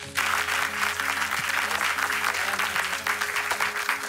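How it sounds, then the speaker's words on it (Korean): A crowd claps warmly at the final round of a Christian debate competition show, steady, full applause rising sharply at the start and holding throughout over a low, sustained musical tone. "큰 박수 부탁드립니다"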